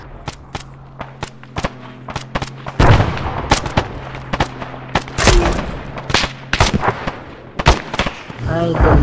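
Anti-tank weapons fire in ARMA 3, with a series of sharp, loud blasts and booming impacts spread irregularly across the stretch, some close and heavy, with faint voices in the background.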